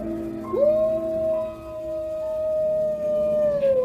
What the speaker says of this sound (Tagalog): Napalingon kaming dalawa sa bintana nang marinig ang nakakakilabot na alulong na iyon ng aso.